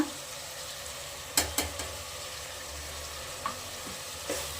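Spice powders frying in a pan for tomato bath, a soft continuous sizzle with a few clinks of a spoon stirring against the pan, fairly quiet, no talking.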